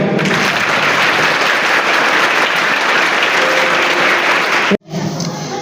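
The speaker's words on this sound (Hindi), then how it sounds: "तो एक बार अपनी एनर्जी के लिए तालियां बजा दो।" Audience applause at a talk on children's screen addiction, a loud, dense and steady wash of clapping from a large crowd that cuts off abruptly, then a brief quieter stretch of room sound follows.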